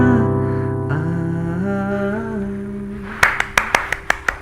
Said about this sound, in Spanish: yo sé que todo el mundo está ahorita aplaudiendo ahí